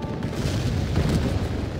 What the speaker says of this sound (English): Our mortars keep firing at the approaching pikemen.